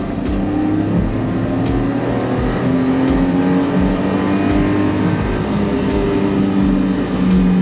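A Honda Acty kei truck cruises in third gear with no air conditioning, its small engine droning steadily and loudly from inside the cab alongside road and wind noise, with no talking.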